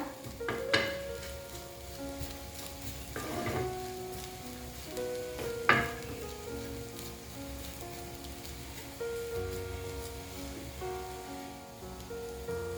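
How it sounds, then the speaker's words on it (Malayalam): Soft sizzling and occasional stirring scrapes as grated coconut dry-roasts in a pan, fairly quiet and steady, with a few sharper knocks from a utensil. "ഇനി 1 പിടി തേങ്ങ ഇതിനകത്ത് ഇട്ടിട്ടുണ്ട്. ഇതൊന്ന് ചൂടാക്കിയെടുക്കണം."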